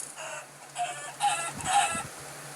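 A chicken clucks in a video game set in a park, a series of short nasal clucks over a steady low hum, with no talking.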